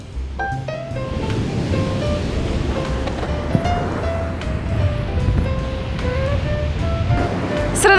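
Sea waves wash onto a wide beach of sand and small pebbles on Gökçeada, a continuous close surf rush with faint intermittent tones and no speech.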